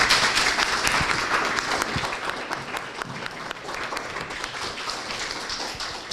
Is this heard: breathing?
no